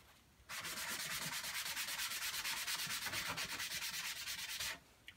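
A sanding block rubs rhythmically over Venetian plaster with a metallic stencil, a close, steady series of quick back-and-forth scratchy strokes lasting about four seconds, then stopping.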